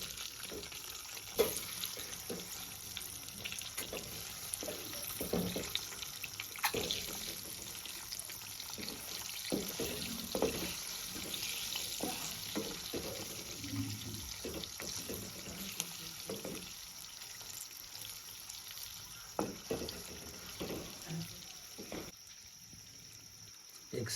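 Eggs fry in hot oil over a low flame with turmeric and salt, giving a steady quiet sizzle broken by scattered clicks and scrapes from the pan, with faint water-like hiss throughout.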